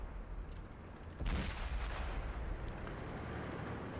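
A tank gun fires in a video game as one sharp, booming blast that swells and rolls off into a lingering rumble, heard alone with no talking.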